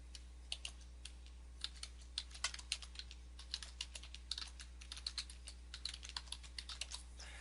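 Someone types a domain name on a computer keyboard, a steady run of close, light key clicks over a low constant hum.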